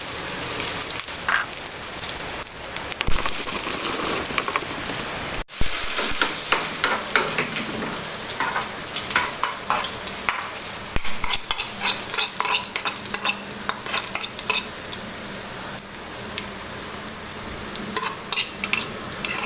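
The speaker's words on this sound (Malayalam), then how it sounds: "അതിലേക്ക് ചെറിയ ഉള്ളി ഇട്ടിട്ടാണ് നമ്മൾ കാച്ചിയെടുക്കുന്നത്" Small shallots fry in hot coconut oil with a loud crackling sizzle, while a utensil stirs and scrapes the pan steadily throughout.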